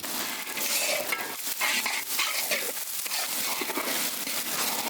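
Onions frying in oil with cumin, curry leaves, ginger-garlic paste and green chillies, being stirred in a pan, a steady close sizzle with scraping and rustling stir strokes throughout.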